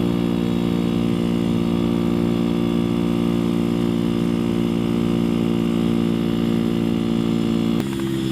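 A 125cc Masai scrambler motorcycle engine drones loudly and steadily on the road, its buzzing tone held evenly for several seconds before cutting off abruptly near the end.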